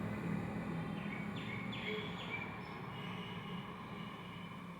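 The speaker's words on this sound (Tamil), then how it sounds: "ட்ரெயின் வந்துருச்சுங்க." A train at Palani railway station, a faint steady rumble and rolling hiss of rail cars heard from a distance, with a few brief high squeals and birds chirping faintly in the background.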